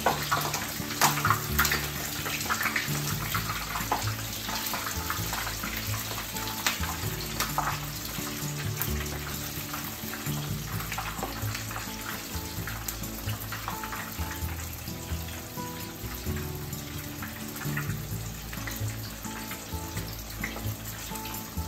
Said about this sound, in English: Fry them for about 3 to 4 minutes on each side.